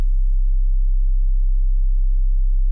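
A pure synthesizer sine-wave sub bass tone made in Ableton, a loud, steady low hum held without change for a few seconds, with a faint high hiss only at the very start.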